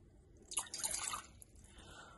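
Water being poured into a cooking pot, a short splashing pour of about half a second that trickles briefly and fades, fairly faint and heard alone.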